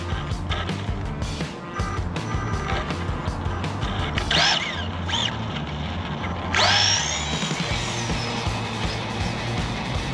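A Losi V100 RC car doing a burnout gives off a buzzing electric motor whine with scraping tire noise, rising in a few high-pitched bursts over a continuous rough background.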